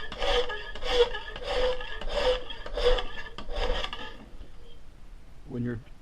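A file rasps across a knife in about six even back-and-forth strokes, close and crisp, followed by a brief pause and a short speaking voice at the end.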